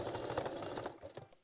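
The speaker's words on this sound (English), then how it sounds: "At this point you can also stitch the back seam to one side," A sewing machine stitching the back seam of lace panties, a fast even mechanical whirr of needle strokes that slows and stops near the end, close and fairly quiet.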